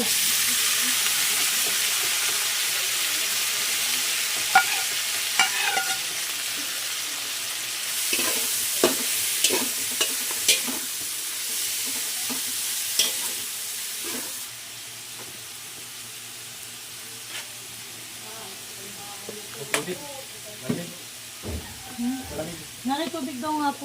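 Ingredients for pancit bihon are stir-fried in a pan: a loud, steamy sizzle with scattered clanks of a spatula and stirring scrapes, softening midway, with faint voices briefly near the end.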